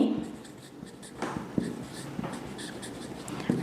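Chalk or marker scratches and taps on a board during a chemistry lesson come in short irregular strokes, fairly close and moderately loud, with a faint voice now and then in the background.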